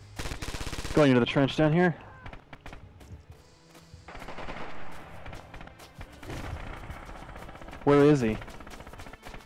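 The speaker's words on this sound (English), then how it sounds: "Crap, where's that gunfire coming from?" Rapid gunfire in the World War II shooter Red Orchestra 2 cracks out in bursts, with shots going off throughout amid a busy battle din while someone talks over it.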